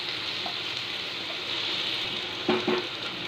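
Kochu loti, taro stolons, fry with turmeric powder in a pan, giving a steady close hiss broken by two quick scrapes or stirs near the end.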